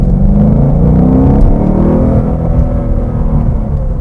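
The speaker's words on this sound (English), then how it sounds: "Listen to this thing go." A 2015 Ford Mustang GT with a naturally aspirated 5.0 V8 accelerating, a loud, close, continuous engine roar with rising harmonic tones as revs climb through a gear.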